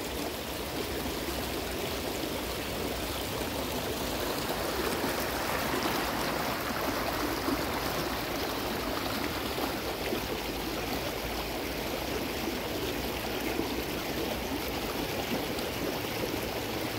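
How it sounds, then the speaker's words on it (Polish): A small forest stream in winter, swollen with runoff and flowing into a river among old-growth trees, giving a steady, close, unbroken rushing and babbling of water with no voices. "Normalnie tutaj jest taki mały potoczek, a jak poleje, jak wszystko spływa do rzeki,"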